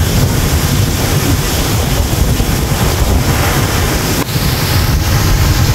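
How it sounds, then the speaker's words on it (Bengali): Heavy rain during a storm aboard a passenger river launch in Bangladesh, a loud continuous roaring wash of rain, wind and water with no breaks. "প্রচুর বৃষ্টি হচ্ছে।"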